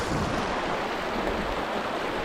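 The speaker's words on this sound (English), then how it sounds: "Beautiful little stream with the bridge across. There's the waterfall" Steady broadband rushing of a small stream and waterfall beside a trail footbridge on the way to Iceberg Lake, a continuous close wash of water with no voices.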